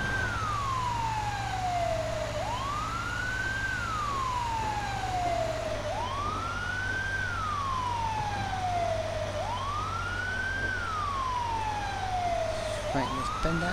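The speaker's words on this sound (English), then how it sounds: "fire engine" A fire engine siren wails steadily in the LSPDFR police mod for GTA V, rising and falling in a slow repeating cycle over a low engine rumble, loud and close with no talk.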